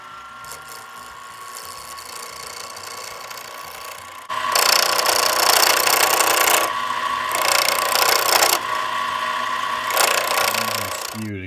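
Wood being turned on a combination wood and metal lathe with hand wood-turning tools to shape a chopstick, a steady motor hum joined by bursts of loud scraping cutting in several spells, no voices.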